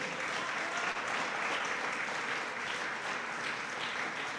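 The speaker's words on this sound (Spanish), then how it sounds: "Déselo fuerte el aplauso si se lo va a dar el Señor." A church congregation applauds in a sustained, dense wash of clapping that holds steady throughout. The sound is moderately loud and fills the room, with no voices standing out.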